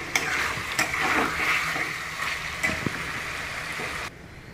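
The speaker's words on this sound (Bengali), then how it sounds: "এদিকে চিকেনটাও মাঝে মাঝে নেড়ে চেড়ে দেওয়া হচ্ছে।" Chicken frying in a pan while being stirred now and then: a close, bright sizzle with intermittent scraping strokes of a utensil, dropping to a faint hiss in the last half second; no one speaks.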